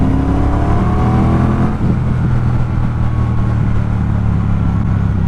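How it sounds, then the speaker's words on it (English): A Triumph Speedmaster parallel-twin motorcycle engine braking in second gear gives a loud close rumble, dropping from a rising rev into a steady low burble with rough popping texture. "It'll also, if you drop off, do pops and burbles just as with the engine braking in second gear."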